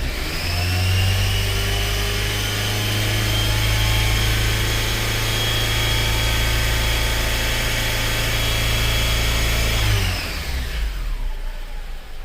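A 2003 Honda Element with the 2.4L AWD engine, carrying a no-VTEC fault, revs loud and steady for about ten seconds under a test, then drops abruptly toward idle.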